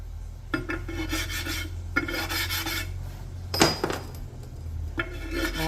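Connecting rod caps from a 2.0 Mitsubishi engine deburred by hand, with several close rasping filing strokes in bursts, a sharp metallic clink midway, over a steady low shop hum.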